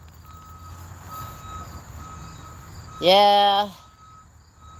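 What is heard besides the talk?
Snap-on Tools truck reversing beeps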